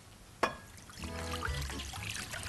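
Cold water pours into a kitchen vessel during cooking, a short close-up splash followed by a steady, gentle stream that runs for about two seconds.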